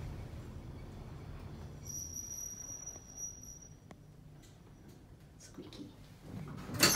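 A squeaky Thyssen Krupp elevator in motion, with a steady low rumble and a thin high squeal from about two to three seconds, then quieter running before a louder clunk near the end.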